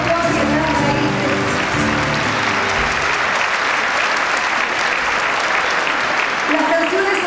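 Loud, sustained audience applause fills a televised folk music competition event. The clapping is dense and steady throughout, with a voice speaking over the first few seconds.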